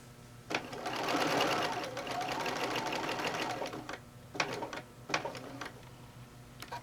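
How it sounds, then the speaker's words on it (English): Sewing machine with a dual feed foot stitching across a fabric microwave bowl cozy, a steady close mechanical whir for about three seconds, then stopping, followed by a few short bursts of stitching. "So we're going to stitch across."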